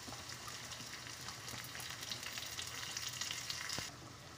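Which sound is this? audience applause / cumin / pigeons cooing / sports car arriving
cumin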